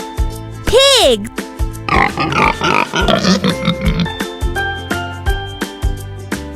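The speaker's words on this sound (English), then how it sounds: "Pig." A pig oinks and grunts in a rapid string of snorting calls after a bright rising whoosh effect, loud and close over cheerful children's background music, as a young voice names the animal.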